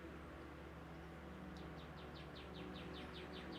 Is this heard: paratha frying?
no